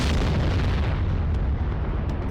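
Missile attack explosions hit Beersheba as a dense, booming rumble of blasts that rolls on continuously and loudly, with no speech.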